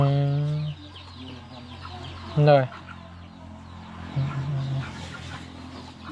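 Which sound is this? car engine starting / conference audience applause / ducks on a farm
ducks on a farm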